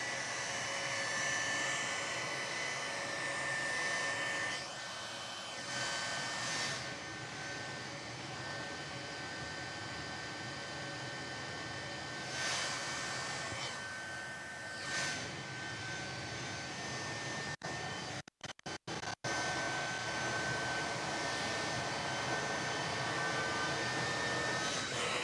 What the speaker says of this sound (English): There we go, both engines lit and fired.